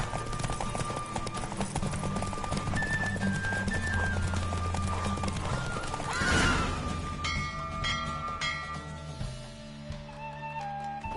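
A horse gallops in The Witcher 3 video game, rapid rhythmic hoofbeats under a swell of orchestral game music, with a whoosh partway through before the music carries on with lighter hoofbeats.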